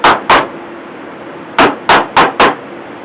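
A wooden mallet strikes a chisel while wasting out material in woodworking, giving six sharp knocks: two quick hits, a pause, then four evenly spaced blows, loud and close.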